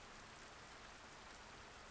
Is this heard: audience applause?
no